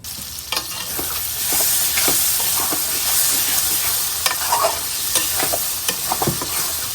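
Mola fish fry in a pan with a loud, continuous sizzle, broken by frequent close scrapes and taps as a utensil stirs the pieces.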